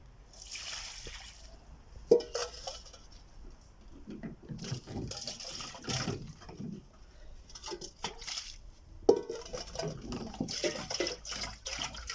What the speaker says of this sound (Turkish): Şimdi suyu döküyoruz.